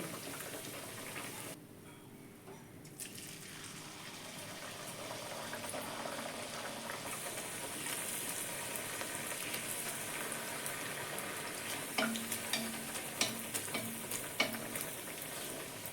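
Luchi, puffed flatbread, frying in hot oil, giving a steady close sizzle throughout with a few brief crackles and pops near the end.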